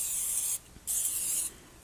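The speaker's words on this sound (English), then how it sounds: "the other thing we're supposed to do, of course, is to spray our pan or oil it" Two bursts of cooking spray hissing onto a cake pan, the first about half a second long, then a brief pause and a second longer spray, close and crisp with no voices.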